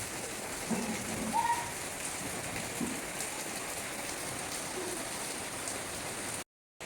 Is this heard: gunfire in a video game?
no